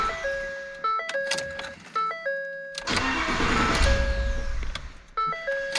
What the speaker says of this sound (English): So it's what I call like bumping the starter.